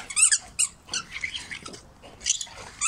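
A dog's squeaky toy gives short, high squeaks in quick irregular bursts, fairly close and clear, with a sunny London day outdoors around it.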